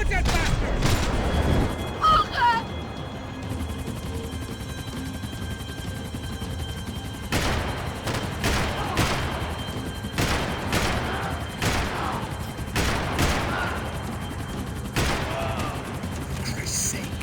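Gunfire from the video game Max Payne 3 erupts in repeated sharp bursts and volleys over a constant rumbling engine-like background, loud and close throughout.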